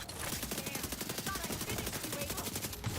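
Rapid automatic turret gunfire in The Division 2 during a PVE fight, a steady rattling stream of shots lasting throughout, loud and close.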